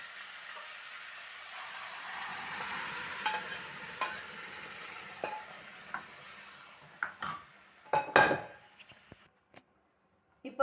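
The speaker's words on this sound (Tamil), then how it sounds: "இப்போ வேக வச்ச பருப்பை இதில் சேர்த்துக்கலாம்." Cooked lentils go into sautéed radish in a pot for sambar, then a ladle stirs and knocks against the metal, giving a soft sizzle followed by louder scraping and clanking toward the end, with no voices.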